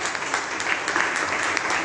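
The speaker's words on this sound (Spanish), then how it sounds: "dale un aplauso a Dios por la vida de Ramiro" A church congregation breaks into brief, dense applause, steady overlapping clapping filling the room at close range with faint voices mixed in.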